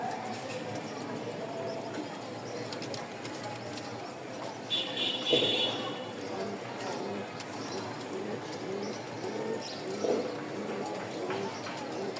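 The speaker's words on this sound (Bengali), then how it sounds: "এতক্ষণ তো কবুতর দেখাইলাম সব রাজশাহী গিরিবাজ" Rajshahi Giribaz pigeons coo repeatedly close by in low, throaty calls, with some rustling and a voice speaking at times.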